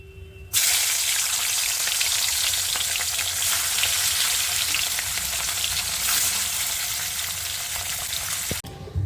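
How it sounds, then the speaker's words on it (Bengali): Pieces of katla fish fry in oil in a pan with a loud, steady, dense sizzle that runs almost without break, then cuts off abruptly near the end. "সব মাছগুলো ভেজে নেবো"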